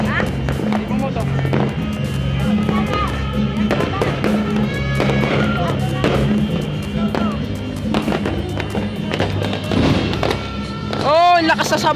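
New Year fireworks in Taguig, Philippines, crackling and popping continuously at close range, with a rising whistle near the end and people talking throughout.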